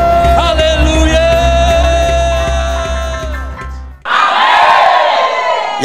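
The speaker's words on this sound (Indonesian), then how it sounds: "Umat Tuhan yang telah dimenangkan, berikan sorak-sorai bagi Dia." A church congregation roaring with cheers and shouts of praise, a loud crowd swell that breaks off briefly and returns in a fresh surge over sustained music.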